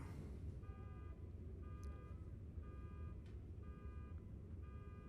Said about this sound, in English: I hear a car alarm going off too.